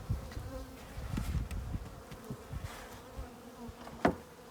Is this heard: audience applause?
no